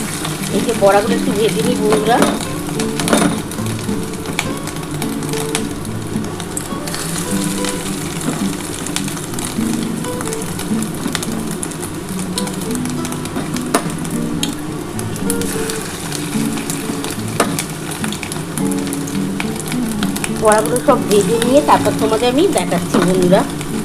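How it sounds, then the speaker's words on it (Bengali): Round fish roe fritters frying in oil with a continuous crackling sizzle, scattered clinks and scrapes, and a voice talking over it intermittently. "এবার আমি একটা একটা করে বড়া ভেজে নিই"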